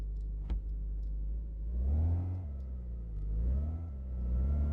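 A car engine idles close by, then revs and pulls away in first gear after the handbrake is released, the pitch rising and falling in steady swells with a brief click near the start.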